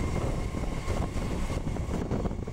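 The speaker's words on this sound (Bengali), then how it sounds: "এখন আমাদের ট্রেন কিন্তু যাচ্ছে খড়দার দিকে" An EMU local train runs toward Khardah, a loud continuous rumble and rattle of wheels and carriages with no pauses, heard from on board.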